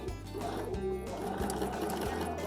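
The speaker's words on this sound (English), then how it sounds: "now I'm going to use my template to stitch in the ditch. I'm controlling the speed of the stitching." A sewing machine fitted with a ruler foot stitches in the ditch along a quilting template, running in short rapid bursts with brief pauses between them, close and fairly quiet.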